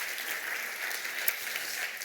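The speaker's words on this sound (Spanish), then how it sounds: "¿Qué tal si les damos un aplauso a nuestros hermanos que se unen a nosotros en esta mañana?" A church congregation applauds during a Sunday morning service, steady, even clapping from many hands with no talk over it.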